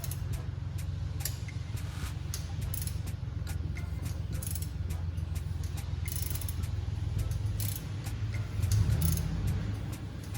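A ratchet turns the engine of a 2004 Infiniti G35 by hand during a water pump change, giving a run of fast metallic clicks and ratcheting ticks over a low mechanical whir, close up and steady, with no talking.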